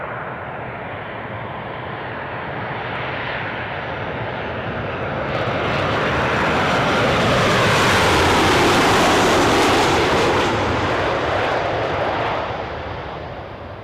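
Jet2 airliner inbound from Faro on approach to Newcastle airport, its engine roar swelling from a distant rumble to a loud broad whoosh overhead, then starting to fade, with no talk.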